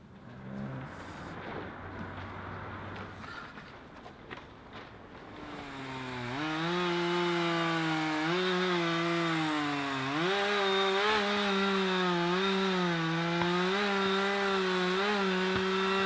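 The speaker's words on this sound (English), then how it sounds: "That winter, we took to the woods to do a big round of logging." Chainsaw cutting timber while logging in the woods in winter; after a quieter start the engine revs up loud and close, its pitch rising and dipping as the saw bites into wood, running continuously to the end.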